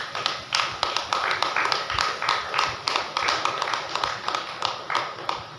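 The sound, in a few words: congregation clapping hands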